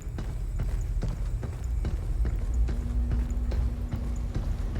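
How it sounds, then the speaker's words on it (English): Soft, elegant footsteps on a metal surface from the video game Pragmata, a steady run of light taps at an even pace over a low background hum. "those footsteps are soft and elegant and they work beautiful with the metal surface"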